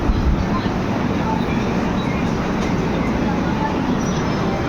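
Pinakini Express running at high speed, a dense, steady rushing rumble heard from inside the coach, fairly loud and even with no distinct clacks.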